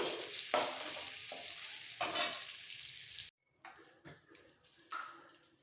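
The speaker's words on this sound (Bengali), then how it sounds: "আলুগুলো গোল্ডেন ব্রাউন করে ভাজা হয়ে গেছে এবার সমস্ত আলুগুলো আমি তুলে নিচ্ছি" Potatoes frying in hot oil until golden brown for a Bengali mutton and potato curry, then being lifted out: a steady close sizzle with a few stirring bursts, a brief silence, then scattered clatter and softer frying.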